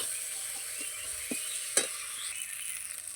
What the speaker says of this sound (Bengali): মশলা খুব ভালো করে কষিয়ে নিচ্ছি।